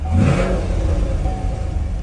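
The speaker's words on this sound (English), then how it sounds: "press the button on the remote control, the car starts right up" A Chevrolet Camaro engine fires up by remote start, a short loud mid-pitched rev that settles into a steady idle, heard close with no talk.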